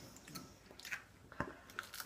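Biting and chewing on a crunchy pizza crust with no olives: a few sharp, close crunches with quieter mastication between them, and no talking.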